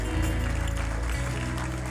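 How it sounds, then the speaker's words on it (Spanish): Church congregation applauding together, a steady dense wash of clapping throughout, with a low sustained musical tone underneath. "Vamos a darle un aplauso al Señor"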